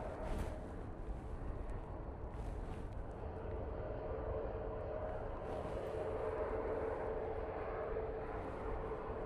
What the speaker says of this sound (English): It is VS74, Virgin Atlantic A350-1000, coming in from Orlando.